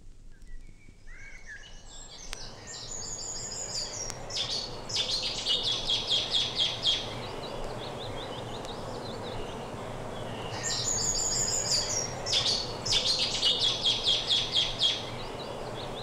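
A Cetti's warbler sings in two loud, explosive bursts of rapid, ringing notes, close by, separated by a pause over a steady outdoor hiss.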